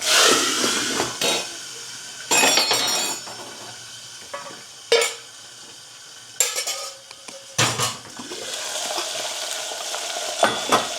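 Asafoetida and cluster beans drop into hot oil in a pan, with bursts of sizzling, spoon scraping and clinks of cookware separated by quieter stretches of low frying hiss.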